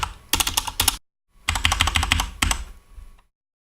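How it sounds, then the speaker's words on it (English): Code typed on a computer keyboard comes as two quick, close bursts of rapid key clicks separated by a brief pause, loud and clear with no talking. "If we type some broken JSX, for example, an unclosed div"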